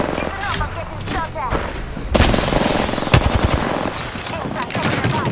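Rapid machine-gun bursts and gunshots crackle through a battle royale video game firefight, with sharp loud volleys around the middle and end and a voice talking over parts of the shooting.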